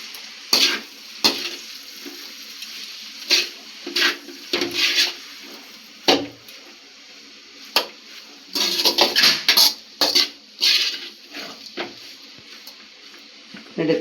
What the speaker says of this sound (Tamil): இப்போ இந்த காய் வந்ததும் இதில் கொட்டி ரெண்டு பெரட்டி எடுக்கணும்